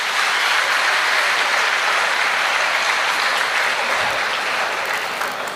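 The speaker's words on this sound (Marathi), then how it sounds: "सगळ्यांनी एकदा जोरदार टाळ्या वाजवा त्यांच्यासाठी" An audience at a Marathi poetry gathering celebrating a teacher's birthday claps in sustained, dense applause, loud and continuous throughout, tapering slightly at the end.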